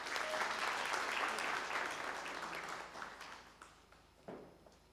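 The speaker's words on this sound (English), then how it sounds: "Ladies and gentlemen, a loud round of applause." An audience at an actuarial convention in Zimbabwe applauds, the clapping full at first and then dying down over a few seconds, ending with a few scattered claps.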